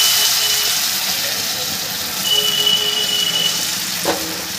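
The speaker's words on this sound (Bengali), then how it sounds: "এই পর্যায়ে তেলটা গরম হয়ে গেলে আমি একটুখানি গ্যাসটাকে কমিয়ে দিলাম। এই ময়দার গোলা এক হাতা এর মধ্যে দিয়ে দিলাম।" A ladleful of egg paratha batter sizzles in hot oil over lowered gas, a steady bright hiss filling the scene with faint voice in the background.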